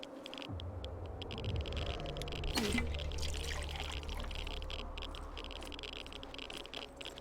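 Running water in the game Wasteland 2, with a steady low rush and trickle continuing throughout, moderately loud, with a brief rattling scrape near the middle.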